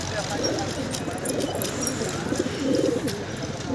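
Pigeons coo at a pigeon coop in low, throaty bursts near the start and again toward the end, over steady outdoor background noise with faint voices.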